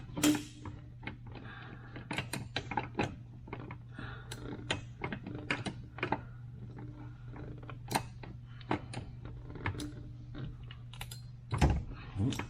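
A wrench working loose a nut high up on a hydraulic clutch, giving a run of small metallic clicks and taps over a low steady hum, close and fairly quiet, with brief speech.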